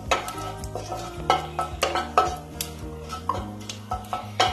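Dried red chili pieces and whole cumin stirred in hot oil, heard as a string of close, rhythmic scrapes and taps of a spoon against a metal pan, with only a light sizzle underneath.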